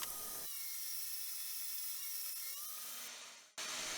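A small, cheap bandsaw cuts through wood with a steady, high-pitched whine and an underlying hum that shifts slightly as the blade works, then briefly drops near the end before resuming.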